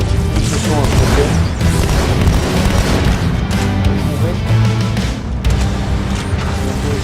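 A grenade goes off in the video game Halo 2 amid constant loud battle noise, a heavy boom blending into dense gunfire and crashes that run throughout without a break.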